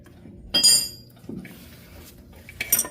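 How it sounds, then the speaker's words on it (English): A few sharp metallic clicks and clinks from a click torque wrench tightening a 1965 Chevelle front suspension part, close by, spaced apart with quiet between them, the first and last the brightest. "This is a click tight wrench, so when we hear it click as I'm tightening it"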